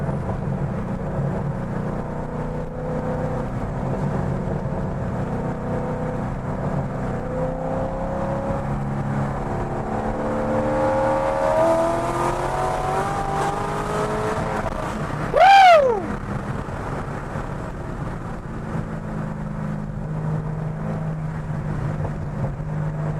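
A cammed C6 Corvette's engine drones and pulls through rising revs from inside the car, with a loud, brief sweeping rev flare in the middle before settling back to a steady rumble.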